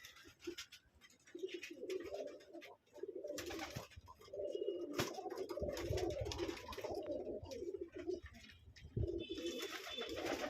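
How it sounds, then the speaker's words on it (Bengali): Lotan pigeons coo continuously in low, throaty, rolling calls close by, with faint rustling and clicks in the background, in a pigeon loft. "এই যে আমার লটন কবুতরটা"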